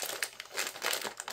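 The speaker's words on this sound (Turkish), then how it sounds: "bunun paketini açamadığım için mecbur makasla açmak zorunda kaldım" Crinkling plastic snack packet of caramelized sesame almonds, Greek snacks bought in Germany, rustling in quick close irregular bursts with no voices over it.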